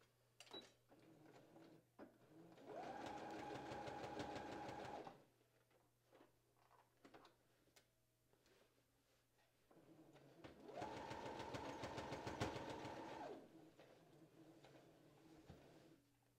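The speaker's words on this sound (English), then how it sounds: "And then we're gonna sew." A sewing machine stitches the side seam of a dress in two bursts of rapid, even whirring, each lasting a couple of seconds, separated by quiet pauses with faint handling clicks and a low background hum.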